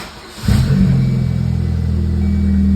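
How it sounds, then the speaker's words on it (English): Car engine catching on its first start after an oil change, a short crank giving way to a steady, loud idle hum that continues without any talk. "Here's the first start after the oil change."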